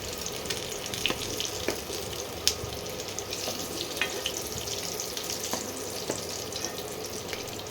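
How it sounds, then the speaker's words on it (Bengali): Potatoes frying in hot oil for a dahi aloor dum curry give a steady, moderately loud sizzle throughout, with occasional light clicks and stirring taps, and nobody talking. "আলুটা ভাজা ভাজা হয়ে গেছে এবারে আমি আলুগুলোকে তুলে নেব"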